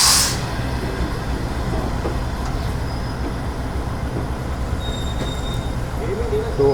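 Pak Business Express train pulling out of a station platform, a steady low rumble of rolling rail cars heard from onboard, with faint squeals and a brief higher burst at the start.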